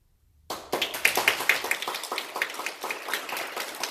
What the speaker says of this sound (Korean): 크게 격려의 박수를 부탁드리겠습니다